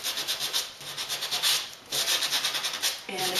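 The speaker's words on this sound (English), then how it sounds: "I'm going to just sand all the pieces first" Close, rhythmic rasping of sandpaper rubbing back and forth over wood, in quick repeated strokes with brief pauses.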